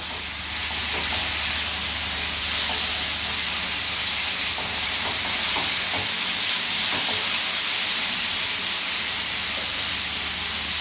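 Potatoes frying in hot oil in a pan for a ridge gourd curry, giving a loud, steady sizzle and hiss that runs unbroken throughout with faint stirring clatter.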